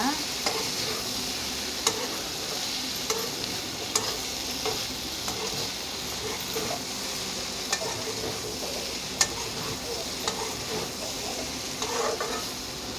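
Carrot and potato fry sizzling steadily in a pan on medium flame, with a continuous close hiss and occasional light clicks of stirring, no voices.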